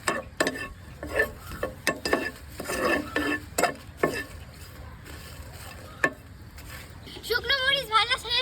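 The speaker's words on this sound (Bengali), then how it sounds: "এখন শুকনো মরিচ ভেজে নেব।" Dried red chilies fry in a little oil in a pan, heard as a series of close, sharp clinks and scrapes from a utensil over a light sizzle, with some talking and a brief rising warble near the end.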